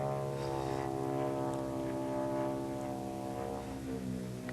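Large radio-controlled model airplane engine during a knife edge loop, a loud, steady droning buzz with strong harmonic tones that holds for the whole stretch, without talking.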